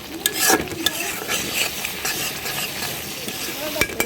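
Potatoes and boiled chickpeas fry with spices while being stirred, close scraping strokes over a lively sizzle and hiss, brief and busy.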